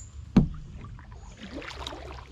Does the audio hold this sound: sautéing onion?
no